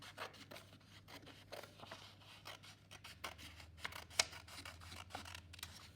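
Paper scissors snip through folded paper while a lantern is being made, a quiet series of close, soft cuts and rustles with one sharper snip near the end, no voices.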